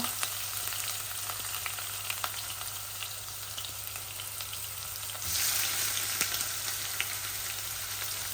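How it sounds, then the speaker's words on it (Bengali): Pointed gourd and onion fry in a pan with a steady broadband sizzle, occasional small pops and crackles, growing a little louder partway through; no voices. "আর একটা পটল বয়াইছি দিলাই আর পেঁয়াজ পরিমাণ মতো।"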